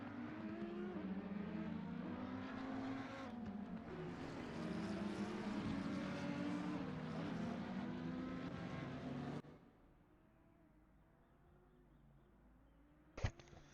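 GT3 race cars at Mount Panorama in Assetto Corsa Competizione warming their tyres, with loud, sustained engine drones and shifting revs from several cars, then a sudden cut to quiet broken by one sharp hit.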